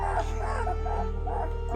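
Two-week-old newborn puppies whimpering and giving small high yips, several soft thin cries repeating close by over a low steady hum.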